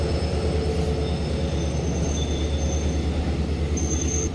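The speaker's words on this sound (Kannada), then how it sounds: "46 ಕಿಲೋಮೀಟರ್ ಕವರ್ ಆದಮೇಲೆ ನಮ್ಮ ಟ್ರೈನ್ ಬಂದೈತ್ರಿ ಈಗ ದೊಡ್ಡಬೇಳೆಗೆ" A MEMU express train rolls into Doddabele station, a loud steady rumble of wheels on rail with high metallic squeals drawn out over several seconds, no talk.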